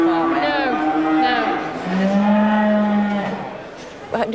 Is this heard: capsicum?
no